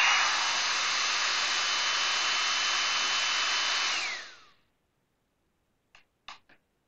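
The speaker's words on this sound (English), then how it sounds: "let's test with the hairdryer" A hair dryer blows loudly and steadily for about four seconds, then winds down and cuts off, followed by a few short clicks, testing a dust collector's automatic start.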